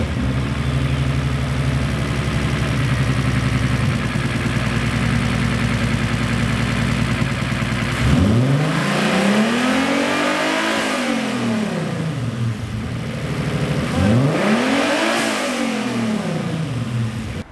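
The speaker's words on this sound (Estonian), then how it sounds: "automootor käib 7000 pööret" A car engine, just repaired after a plug connector was cleaned, idles steadily before being revved hard twice toward 7000 rpm, each rev climbing sharply and falling back to idle. Loud and close, with no talk.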